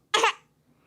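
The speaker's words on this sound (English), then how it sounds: "That's coughing." A single short cough from a small child at home, one abrupt close burst lasting under half a second, then silence.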